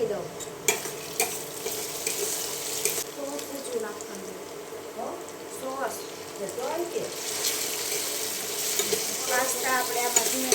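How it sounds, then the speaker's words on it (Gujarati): Pasta is tipped into sauce in a pan and stirred, with a soft sizzle under repeated scraping and clattering stirs, a few sharper knocks, and brief voices breaking in partway through. "પાસ્તા આપણે આમાં ધીમે ધીમે નાખીને હલાવતા જઈશું"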